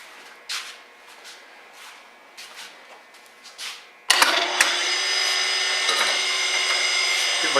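Light clinks and shuffling precede a surface grinder powering on abruptly, then running with a steady, bright whirring hum that holds to the end.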